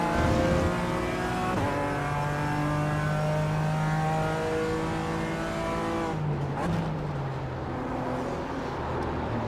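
A BMW race car engine in the iRacing sim wails at high revs, the pitch climbing through gears with sharp drops at each shift, then easing off late with a faint tire squeal. A commentator talks over it.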